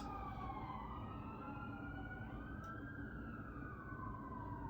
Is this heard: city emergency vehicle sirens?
yes